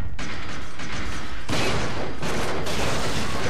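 Rapid gunfire in the video game Resident Evil 4, a loud, unbroken volley of shots with sharper bursts at about 0.2 s, 1.5 s and 2.3 s, dense and close throughout.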